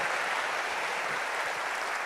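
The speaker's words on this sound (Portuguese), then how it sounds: "aí eu vou pedir uma salva de palmas para minha mãe, galera" A live audience applauds the speaker's mother at a business talk, a dense, even wash of clapping that holds steady throughout.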